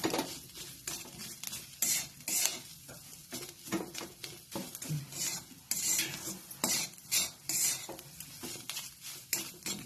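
A vegetable tikki mixture is stirred in a pan over a high gas flame: repeated close scraping and clattering strokes against the metal in an uneven rhythm, with no voices.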